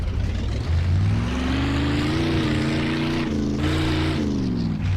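A Hot Wheels-style sports car in the video game Mafia 2 revs its engine loudly, the pitch climbing and holding in a sustained close roar with no talking.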